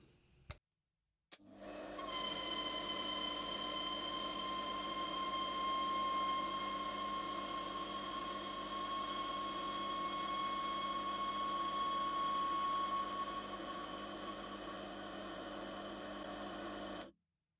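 Steady whirring grind of a small rotary tool or grinder skimming metal off an alloy bolt part for an AWM gel blaster, starting after a brief click and running continuously for about fifteen seconds at even loudness, with a sustained whine throughout.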